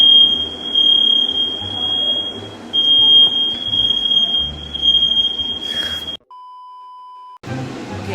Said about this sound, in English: I made smoke and then it created a fire alarm.